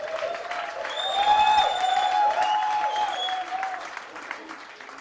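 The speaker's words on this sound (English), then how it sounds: "please, give them a warm round of applause" An audience at a Cannes Lions 2010 seminar applauds steadily for about five seconds, the clapping swelling slightly in the middle, while a voice carries over it.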